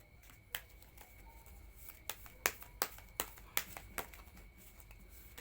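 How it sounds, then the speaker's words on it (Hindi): Tarot cards being shuffled by hand, a series of crisp, quiet snapping riffles and slaps, irregularly spaced and close up against a faint background hush. "सबसे पहले कार्ड मैंने पहले भी शफल किए हुए थे, मैं और कर लेती हूँ।"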